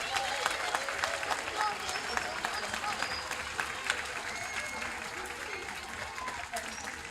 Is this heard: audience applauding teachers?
yes